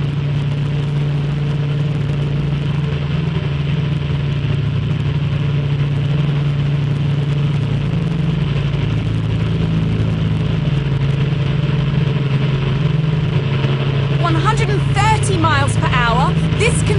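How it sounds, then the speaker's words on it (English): A large engine drives a steady, roaring stream of wind at about 90 mph to test a conservatory roof. The loud, constant drone and rushing air hold throughout, and a brief voice or rattle appears near the end. "Right now, the engine is creating wind speeds of 90 miles an hour."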